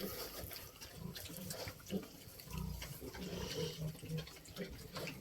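Mangalica pigs grunt and snuffle softly while munching, with wet chewing and rustling sounds close by, fairly quiet overall.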